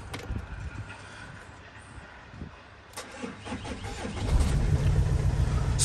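A 2012 Volkswagen Golf 6 1.6 TDI diesel engine cranks over with a starter whir, catches, and settles into a loud, rumbling idle close by.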